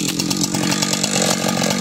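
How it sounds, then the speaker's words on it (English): A Husqvarna 372 XP chainsaw runs loud and close at a steady high rev during a timber harvest, its engine roar continuous and unbroken with no voices. "Husqvarna 372 XP"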